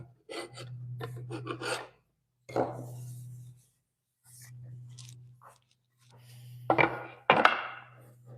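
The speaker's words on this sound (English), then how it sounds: "Oh, it's just chiseling." A chisel works wood in a workshop during the building of chest-of-drawers front frames, heard as close bursts of scraping and rasping strokes separated by pauses, ending in two sharper knocks, over a steady low hum.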